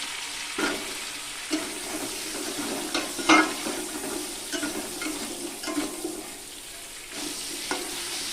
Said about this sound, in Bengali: এই তেলে আমি এই মিষ্টি আলুগুলো ভেজে নেব